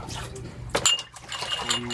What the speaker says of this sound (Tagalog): Naghugas siya ng pinggan ngayon.